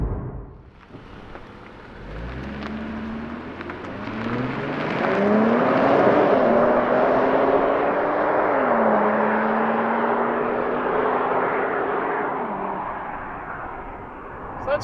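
An Infiniti Q50 with a 3-liter twin-turbo V6 revs up, its fairly subdued engine note climbing in pitch and stepping down between gears before easing off.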